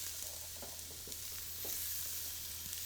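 Spiralized zucchini noodles, unpeeled, cook down in a pan with a continuous soft sizzle and occasional light stirring scrapes, low and steady with no talking.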